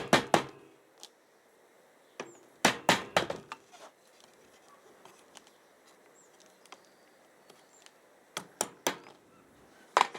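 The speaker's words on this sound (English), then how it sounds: "Tap it in softly, you're not nailing it in or anything, you're just tapping it in" A wooden bottom bar is tapped into a 14x12 bee brood frame in a quiet room, with clusters of soft, sharp wooden taps separated by near silence.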